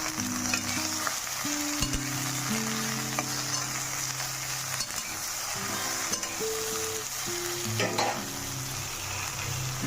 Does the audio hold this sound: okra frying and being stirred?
yes